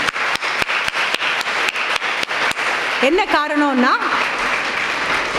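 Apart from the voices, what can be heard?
audience clapping for nursing students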